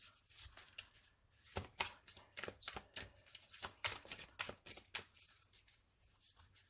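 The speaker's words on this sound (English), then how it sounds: "So we'll have a look at your oracle cards. So we're going to use the Moonology deck." Moonology oracle cards are shuffled in a rapid run of soft, papery riffles and slaps, each one short and crisp, quite faint and close, with no talking.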